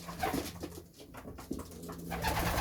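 Pigeons coo softly at close range in a loft, their calls mixed with light rustling and shuffling as the birds jostle one another before feeding.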